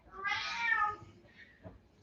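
A quiet, distant meow from an elderly cat, one drawn-out cry trailing off into a fainter second call in an otherwise hushed room.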